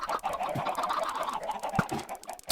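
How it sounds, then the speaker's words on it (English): Chickens in the Minecraft video game cluck continuously close by, with a dense, busy run of squawks and clucks filling the whole short stretch. "Chickens."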